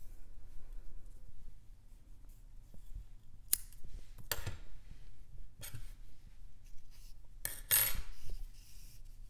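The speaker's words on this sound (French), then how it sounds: "On coupe une bonne longueur pour pouvoir le coudre ensuite à la tête." Scissors snipping a length of crochet yarn while making a crocheted teddy bear toy, a few sharp close cuts spaced apart with quiet handling rustle between them, no voices.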